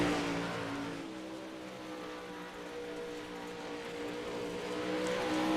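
A dirt late model race car runs a qualifying lap at Eldora Speedway, its engine a steady, loud drone that swells slightly as it comes out of the turn, with no voices over it.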